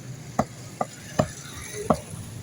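A vendor at a fish shop chops fish with a blade, four sharp knocks at a steady, unhurried pace over a low background hum.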